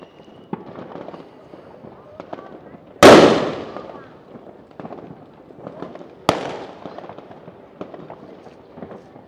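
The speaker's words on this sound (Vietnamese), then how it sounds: "Đây là rất là nhiều pháo hoa." Fireworks go off over a village in central Vietnam for the Tết New Year. Two loud, sharp bangs ring out a few seconds apart, each trailing off, with lighter pops and crackles and background voices in between.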